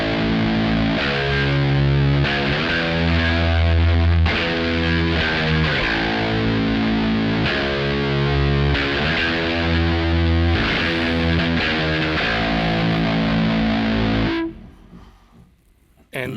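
A six-string bass guitar played through a Kemper Profiler with fuzz and a compressor chugs out repeated static, gritty notes in a steady rhythm, loud and close, before cutting off near the end.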